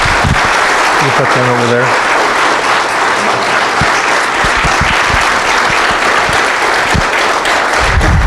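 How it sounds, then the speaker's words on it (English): A Baptist church congregation gives a round of applause after a testimony, a loud, continuous roar of many clapping hands that holds steady throughout, with a few voices speaking briefly over it. "Give them a round of applause if you will."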